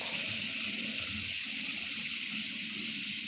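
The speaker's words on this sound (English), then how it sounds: "let me go ahead and give them some water before it gets too hot" Steady rushing stream of water poured over rose garden flowers, a continuous hiss with no break, close and fairly loud, with no talking.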